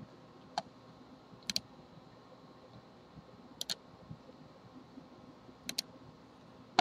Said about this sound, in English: let's double click on the part then